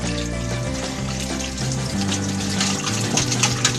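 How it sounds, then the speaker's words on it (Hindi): Melon seeds rinsed in a sieve under running water, a continuous splashing tap flow with faint gurgling and shifting spatter throughout. "हमने इसको बीजे को एक चलनी में लिया और इसको धो लिए, धो करके साफ कर लिए"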